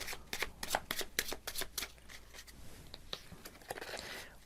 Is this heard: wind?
no